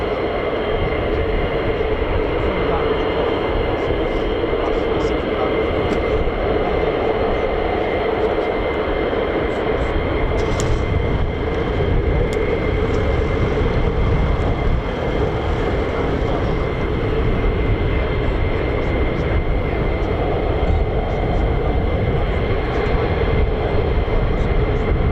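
Boeing C-17 military transport aircraft engines give a loud, steady jet roar with a droning whine, continuous and unbroken at an air force base, with no talking.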